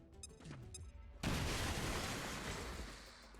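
A frag grenade is tossed and bursts in the turn-based tactics game XCOM Chimera Squad: a few soft game tones, then one sudden loud explosion that rolls on as a dense, sustained rumble and crackle.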